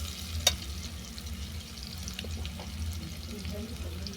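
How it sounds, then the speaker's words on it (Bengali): Chopped potatoes fry in a pan and get stirred until brown. A faint, even sizzle runs over a low background hum, broken once by a sharp click near the start. "আলুটাকেও নেড়ে ফেলে আমি বাদামি করে ভেজে নেব।"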